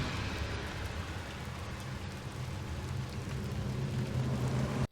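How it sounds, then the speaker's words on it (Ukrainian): Steady, heavy rain pours down without a break, a dense broadband wash with low rumble beneath, ending abruptly. "Пішла сильна злива."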